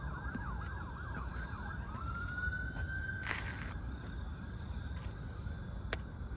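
Wailing emergency vehicle sirens sound in the distance behind a street scene, starting with a fast yelp that slides into a steady sustained wail, with a short burst of noise midway.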